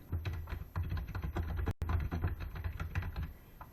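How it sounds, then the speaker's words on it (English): Rapid typing of text on a computer keyboard in a word processor, a dense, steady patter of close, quiet key clicks with a brief break midway. "I can type whatever I want in here"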